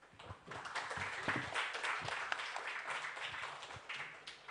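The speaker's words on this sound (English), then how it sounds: "let us give applause to Professor Christian Blum" A conference audience claps for Professor Christian Blum at the close of a session, a moderate, somewhat uneven patter of hands with a few sharper individual claps standing out.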